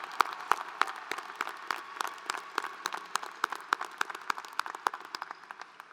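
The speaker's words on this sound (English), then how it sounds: "Another round of applause for each of these students." Applause for graduating students at a fall graduation ceremony: scattered, distinct hand claps in an irregular patter from a modest crowd, fairly quiet and spacious, with no talking.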